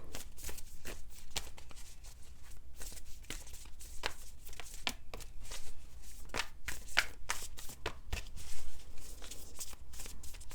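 Oracle cards shuffled close up in a rapid, uneven series of crisp slaps and riffles lasting several seconds, fairly quiet, with no speech over them.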